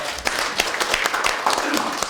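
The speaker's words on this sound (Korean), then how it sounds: "큰 박수를 부탁드립니다" A crowd at a Democratic Party of Korea joint meeting of the supreme council and national committee chairs applauds, a dense, steady clapping with occasional louder claps and some voices mixed in.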